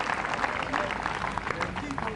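A church congregation at an outdoor evangelical event in a park claps in steady, dense applause for about two seconds, a broad wash of hand claps at moderate distance with voices mixed in.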